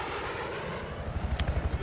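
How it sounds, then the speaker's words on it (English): A Battlefield 4 helicopter drones steadily with a low engine roar, and a rhythmic rotor thump builds louder in the final second. "Oh, I'm gonna get this helicopter."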